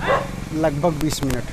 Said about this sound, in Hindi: कुत्ते भी भौंक रहे हैं, यहाँ पे डिस्टर्ब भौंक रहे हैं हमको।